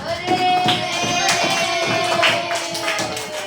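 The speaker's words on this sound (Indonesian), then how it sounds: "Tepuk tangan dulu untuk kita semua" A classroom of students claps together, a steady patter of many hands that fills the room from start to finish with a few louder bursts, no talk over it.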